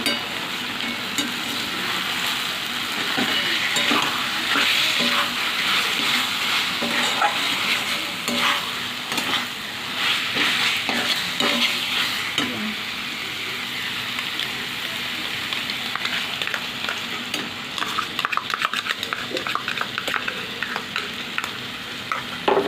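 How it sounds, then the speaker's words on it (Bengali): Sour yogurt being whisked and stirred into chicken curry in a hot pan, a steady close sizzling hiss with scraping stir strokes running throughout, no voices. "টক দইটাকে ফেটিয়ে দিয়ে দিলাম পুরোটা।"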